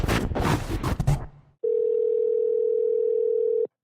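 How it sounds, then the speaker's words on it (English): A telephone dial tone hums steadily for about two seconds as a call is placed, following a burst of brief background noise and a short pause, then cuts off abruptly. "So I'm about to phone up one of my clients who's been working with me for years doing this."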